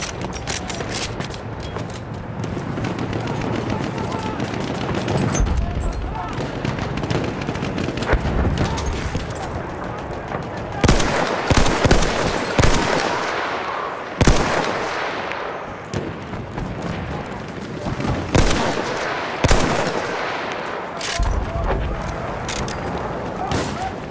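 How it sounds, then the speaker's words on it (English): An enemy machine gun fires in the video game Battlefield 1 amid dense, loud battlefield gunfire, with repeated bursts and heavy booms throughout and some voices mixed in. "There's an enemy machine gun!"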